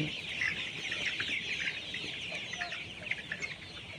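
A large flock of Kazi high-sex brown layer pullets, about 3500 birds on a poultry farm, cluck and chatter together in a dense, continuous murmur with no talking.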